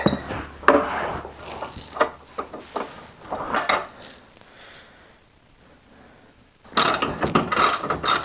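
A ratchet clicks against rusted bolts on the rear bumper of an old, worn golf cart, coming in bursts of ratcheting close by with quieter gaps between strokes.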